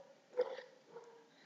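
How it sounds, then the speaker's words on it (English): The neighbours' dogs bark at night, a single muffled bark followed by a weaker one, distant and faint against a quiet room, with no talking. "Sorry if you can hear the dog sounds."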